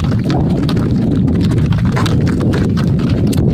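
Bullock hooves clop steadily and close by, a dense rhythmic tread under a constant low rumbling noise.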